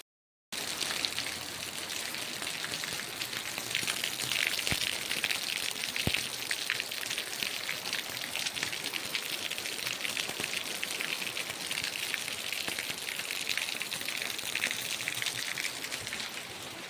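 Steady rain falls outdoors in a village, a dense, even hiss of drops pattering on surfaces with no break and no voices.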